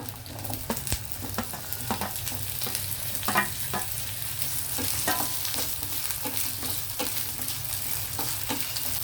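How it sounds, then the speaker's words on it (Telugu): Potatoes and onions frying steadily in hot oil, a continuous close sizzle with occasional sharper pops and faint stirring scrapes, no voices. "నూనె వేడిగా ఉంది కాబట్టి ఉల్లిపాయలు త్వరగా ఎగిపోయాయి నేను దుంపలు వేసేస్తున్నాను ఇందులోను"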